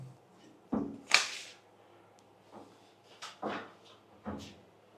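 A shower door in a remodeled bathroom swung open, giving a soft clunk and a sharp whooshing swipe followed by a few quieter knocks and rattles, close by, with no talking.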